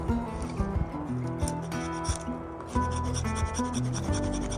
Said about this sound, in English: I can make my shavings. And like I said, use the back of your knife to create that really light and fluffy